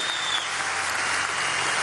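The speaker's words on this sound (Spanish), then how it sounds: "Quiero también pedir un gran aplauso a los delegados invitados especiales que han venido del mundo" The crowd at a youth party congress closing ceremony applauds visiting international delegates, a continuous wash of many hands clapping in a large hall, steady and evenly loud throughout.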